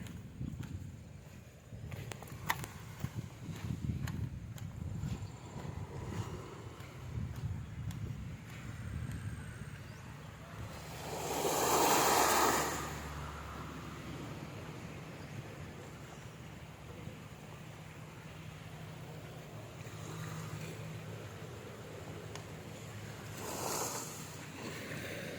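Sea waves roll and wash along a provincial shoreline by a damaged seawall in the Waray region of the Philippines, a steady wind-blown rush with a louder surge midway and another brief swell near the end.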